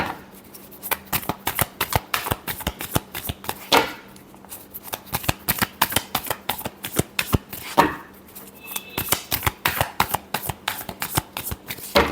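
Tarot cards riffle and shuffle in a long run of quick, crisp slaps and flutters, near and steady, with slightly louder bursts around the fourth and eighth seconds; no voice over it.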